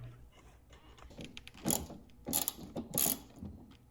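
A ratchet with an extension turning out a small 7 mm headlight bolt on a Dodge Journey, several bursts of sharp clicking close by, with quieter mechanical rattles between them and no speech.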